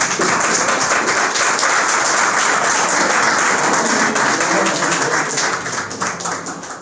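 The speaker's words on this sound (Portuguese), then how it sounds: "Podeis se assentar aplaudindo ao Senhor" A church congregation applauds the Lord while sitting down, a loud, sustained patter of many hands clapping close by that tapers slightly near the end.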